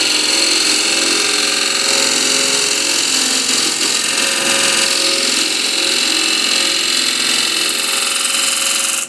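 A wood lathe makes a push cut on a wooden bowl, giving a loud, steady whir and rushing scrape of the gouge on the spinning wood that runs unbroken for the whole stretch, with no voices.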